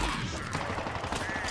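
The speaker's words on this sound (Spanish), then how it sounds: "¡Recibir disparos!" Rapid bursts of Halo Infinite gunfire crackle continuously, dense and loud, with no voices.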